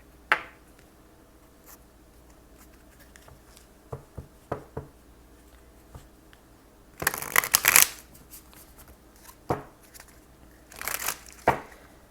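A deck of tarot cards is shuffled close by, with a loud riffling burst midway and another near the end, soft taps and handling sounds between, no talking.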